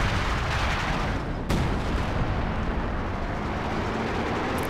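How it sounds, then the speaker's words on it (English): Heavy artillery fire in a Company of Heroes 2 multiplayer battle: a dense, continuous roar of blasts and rumble with one sharp crack partway through, loud and sustained, with no talking. "Good use of major artillery. It's nice to see some major artillery usage like that."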